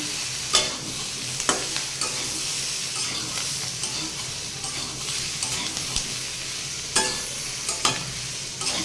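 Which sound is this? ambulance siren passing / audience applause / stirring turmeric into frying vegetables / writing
stirring turmeric into frying vegetables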